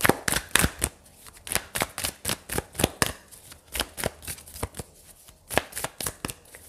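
Tarot cards being shuffled by hand in a quick, close series of crisp riffles and slaps, repeating in an uneven rhythm with no speech.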